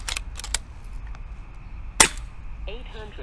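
A single sharp air gun shot fired through an RTI assisted valve, loud and brief, with faint handling clicks before it and a short mechanical rattle after.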